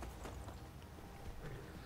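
Horse hooves clip-clop at a steady walking rhythm in the Skyrim video game, faint and steady under a continuous wash of game ambience.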